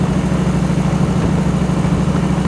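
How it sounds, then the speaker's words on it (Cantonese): Motorcycle engine running steadily while riding on rural country lanes in the UK, a continuous low rumbling drone with a gear change, close and loud throughout with no talk. "我聽住啲引擎聲"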